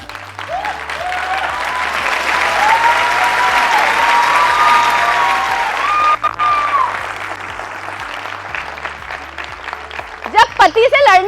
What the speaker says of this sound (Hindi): हमारी ताली कैसे बज रही है?